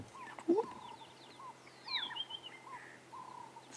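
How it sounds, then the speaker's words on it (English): Orioles call in a dawn chorus on a sunrise safari: faint, fluid whistled phrases come and go at a distance over a quiet background, with other scattered bird calls. "Orioles."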